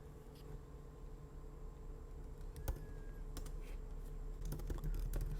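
Java code being typed on a computer keyboard, with quiet, irregular key clicks in short bursts that grow denser toward the end, set against a steady low room hum.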